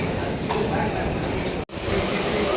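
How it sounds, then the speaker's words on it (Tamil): Nilgiri Superfast Express train at a station, a steady, loud wash of rail and platform noise broken by one brief dropout near the end. "இதாங்க நம்ம போகிற ட்ரெயின்."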